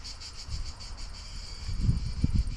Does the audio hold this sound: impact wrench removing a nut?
no